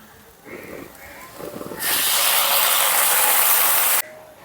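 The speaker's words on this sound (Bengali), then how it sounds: "এখন এর মধ্যে দিয়ে দিচ্ছি আমি জল" Water is poured into a hot pan of fried vegetables for chilli paneer. It sets off a sudden loud hissing sizzle that holds steadily for about two seconds and then cuts off, after a few quiet clatters.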